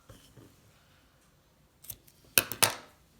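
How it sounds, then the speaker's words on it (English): Scissors trim off the end of a knotted cord with a few sharp, close snips near the end, after faint handling noises. "And then I'm going to trim that off."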